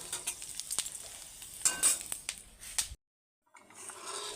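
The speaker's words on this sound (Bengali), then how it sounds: "তো এখন ডালটা ঢেলে দেব।" Dal pours into hot oil tempered with coconut, green chilli, crushed ginger and bay leaf, setting off a close, crackling sizzle with bursts of spatter, then a sudden short silence before a softer hiss returns.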